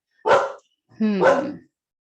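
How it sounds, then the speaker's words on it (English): A pet dog gives two short barks indoors, close and loud, the second bark longer and more tonal, with silence in between. "Oh, excuse my dog."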